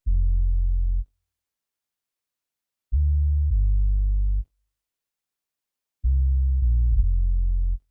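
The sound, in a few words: bass line in lofi track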